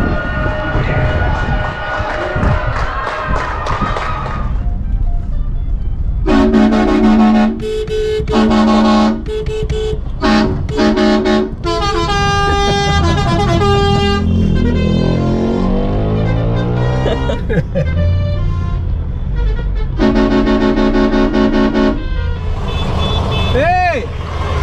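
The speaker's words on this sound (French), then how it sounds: "les petits joueurs avec ton klaxon" Car horns honking in street celebration after Argentina won the World Cup, in Tierra del Fuego: loud, close, repeated blasts of several horns in long and short bursts, overlapping with traffic noise and some talking.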